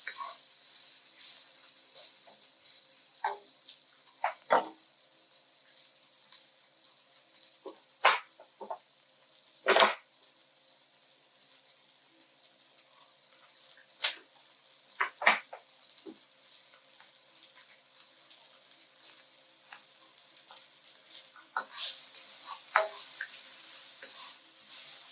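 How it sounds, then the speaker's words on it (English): Turmeric rice stir-fries in a pan with a steady, soft high sizzle, while scattered scrapes and taps from stirring land at irregular moments. "Stir frying it. Keep moving it around in the pan so it don't burn."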